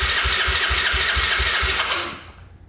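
A 1980s Yamaha Moto4 80cc ATV engine, freshly fitted with a new carburetor and fuel lines, cranks and catches with rhythmic low pulses, running close and loud for about two seconds before dying away.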